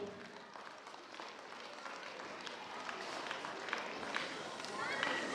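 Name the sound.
audience applause welcoming a guest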